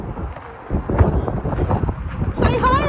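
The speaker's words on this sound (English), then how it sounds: "Oh my God, it's so windy." Gusty wind buffets the microphone with low rumbling bursts while a person talks over it, the roar rising sharply near the end.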